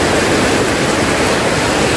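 Flooded Shivnath river rushing past a submerged Shiva temple, a loud continuous broadband roar of water filling the whole clip with no voices.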